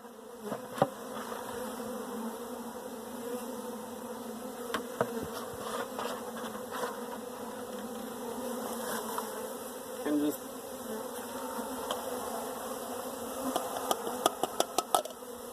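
Many honeybees buzz in a dense, continuous drone close by at an open hive, with occasional faint knocks and clicks.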